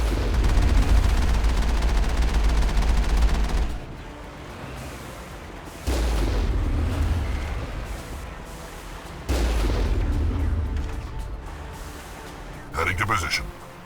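Heavy artillery and gunfire in the video game Mass Effect, three long bursts of booming, rumbling fire separated by quieter stretches, with a shorter blast at the end and game voices speaking in between.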